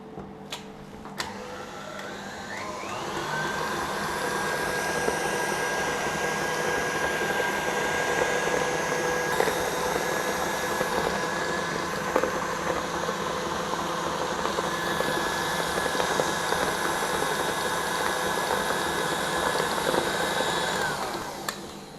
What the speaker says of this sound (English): Just going to pop this into the stand mixer and then beat it again.